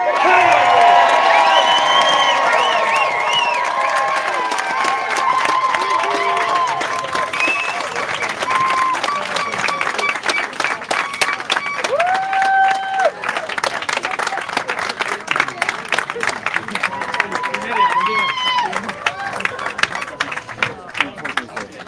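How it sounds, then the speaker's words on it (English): A crowd cheers, whoops and claps at the finish of the World's Toughest Row Atlantic ocean rowing race, loud and sustained at first, then thinning into scattered claps and shouts with voices calling over it. "So now I want you all to make some noise and a big applause"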